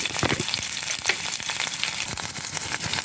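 Ivy gourd stir-fry sizzling steadily in a hot pan, with irregular scraping clicks of a spatula stirring through it, close and continuous with no talking.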